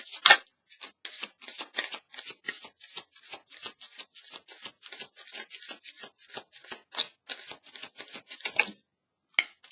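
Tarot cards being shuffled by hand, a long run of quick crisp riffling bursts in an uneven rhythm, close and clear, ending with a brief pause and one last flick.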